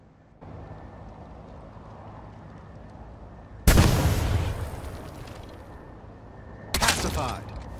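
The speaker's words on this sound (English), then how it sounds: "The advanced rocket launcher does 180 damage in the effective area" Two heavy advanced rocket launcher blasts burst out in the Caliber shooter game, each a loud, close boom with a rumbling, debris-filled tail, the second arriving about three seconds after the first over steady game ambience.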